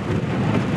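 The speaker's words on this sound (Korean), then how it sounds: "이제 비가 오네요." Spring rain falls with a low rumble of thunder in Gwangju, a loud, continuous roar of downpour and deep rolling noise filling the short moment without speech.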